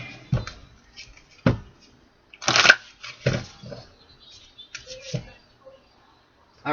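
A deck of tarot cards is shuffled three times, giving repeated brief riffling and snapping bursts at close range, separated by short pauses, with no voices.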